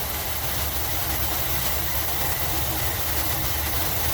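A 1981 Dodge B250 Ram Van engine, just started after sitting a long time with worn valves, idles with a steady, loud, rough low rumble close by, continuous and without talk.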